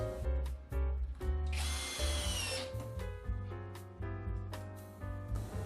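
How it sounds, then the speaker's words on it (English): A power drill drives screws into a birdhouse roof, whining loudly up close in repeated bursts, with one long high-pitched spin in the middle and brief gaps between runs. "just screwing the first roof on now"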